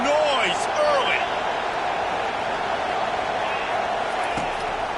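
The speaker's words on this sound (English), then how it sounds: "This crowd bringing the energy and noise early." A college football stadium crowd at a Utah vs Louisville game keeps up a steady, dense roar throughout, with a commentator talking over it at the start.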